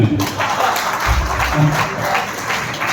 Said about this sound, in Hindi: आप सब लोग ताली बजाइए उनके लिए